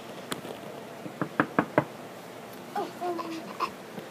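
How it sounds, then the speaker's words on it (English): Four sharp knocks on a door in quick succession, close and clear, followed by a short, high, small voice calling out that sounds like a child or a baby. "I'll knock on the door."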